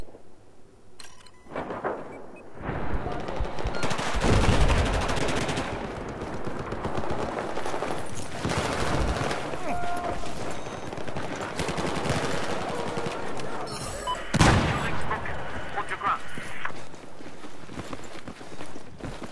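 Battlefield 4 gunfire from an online Chainlink match on the Dragon's Teeth maps, with continuous automatic bursts and scattered shots over busy battlefield noise and one louder blast near the end.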